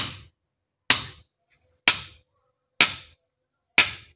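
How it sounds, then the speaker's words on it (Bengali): Sharp blows drive a thick bamboo handle tightly into an iron hammer head, five evenly spaced, close, loud knocks, each ringing briefly before fading to silence. "হাতুরটা আসারির মধ্যে ঢোকানোর পর আস্তে আস্তে বাড়ি মারতে লাগে"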